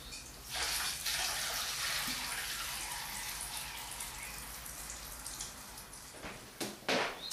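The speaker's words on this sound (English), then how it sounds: "we need to get our fermenting wine into a sterilised secondary container, and all we do, I set it, is just pour it gently in." Fermenting homemade nettle wine poured gently into a sterilised secondary container, a steady, close liquid splash and gush running for several seconds, then tapering into a few separate drips and splashes.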